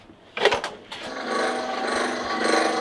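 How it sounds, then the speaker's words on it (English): A drill bites into wood with a brief burst, then grinds steadily with a rising whine, close by and fairly loud, while building bunks inside a boat. "Drilling."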